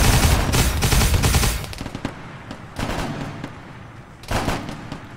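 Sustained automatic gunfire in the Arma 3 military video game, loud and dense bursts of rapid shots that ease off, then return in two shorter volleys.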